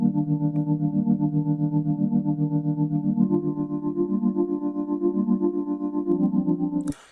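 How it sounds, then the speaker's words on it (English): Chord progression in FL Studio run through a tremolo effect: sustained synth chords pulsing in rapid, even volume throbs, loud and steady, shifting chord once midway before cutting off abruptly, with no talking. "copy that and paste it into your tremolo signal"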